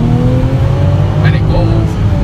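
A BMW SUV engine accelerates hard, a loud, steady, close drone with rising engine pitch that fills the whole short stretch.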